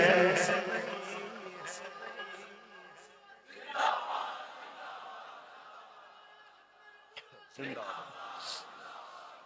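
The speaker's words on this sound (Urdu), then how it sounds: "یہ میں دو نعرے جو یہاں پہ لگ رہے ہیں" Crowd at a religious gathering chants slogans in unison, loud rhythmic group shouts repeating in bursts with pauses between, voices echoing through the space.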